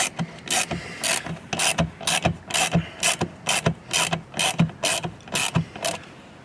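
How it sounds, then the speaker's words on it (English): A ratchet fitted with a 10mm socket tightening 6.3 by 20 screws while installing a part on a 2021-2023 Tesla Model Y, giving close, loud, rhythmic bursts of clicking in steady back-and-forth strokes. "we're going to use our 10mm socket, and we're going to begin to tighten them"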